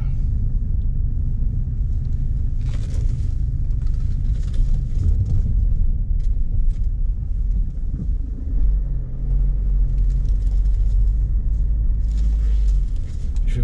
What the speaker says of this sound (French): Je vais garer la voiture.